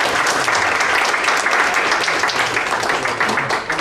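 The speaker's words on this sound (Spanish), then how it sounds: "les pido un fuerte aplauso para el profesor Jorge" Dense, sustained applause from a seminar audience welcoming a visiting law professor, a steady wash of many hands clapping at full volume with no pauses.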